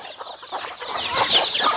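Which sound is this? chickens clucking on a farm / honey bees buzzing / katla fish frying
chickens clucking on a farm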